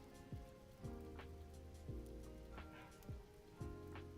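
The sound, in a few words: rain ambience sound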